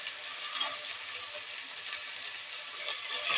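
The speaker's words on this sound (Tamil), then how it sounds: "நம்ம எண்ணெயிலே நல்லா வதக்கிக்கலாங்க." Faint, steady sizzle of ginger garlic paste sautéing in hot oil for a white kurma, a soft hiss of frying with a few slightly louder crackles and no talk.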